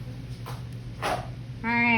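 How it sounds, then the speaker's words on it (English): A pet dog barks and whimpers in a kitchen while chicken is being prepared, giving a few soft sniffs and whines before a louder, drawn-out yelping whine at the end, over a steady background hum. "Y'all hear my dog? He's wanting to eat this chicken."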